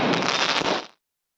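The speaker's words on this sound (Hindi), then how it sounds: "आतिशबाजी की गई है" Fireworks set off at a political celebration in Ratlam, a dense burst of crackling and popping that fills the moment at close range and then cuts off abruptly.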